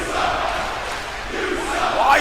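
Loud crowd roar from an arena audience in a WWE 2K wrestling video game, a continuous sustained wash of noise that swells slightly toward the end, with no talk.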